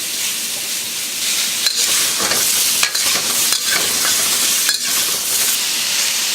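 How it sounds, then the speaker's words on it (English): Papaya slices sear in a hot wok for a beef and papaya stir fry, a steady loud sizzle and hiss with stirring scrapes and bursts of spatter throughout, no talking. "You want to get a little sear going on the papaya"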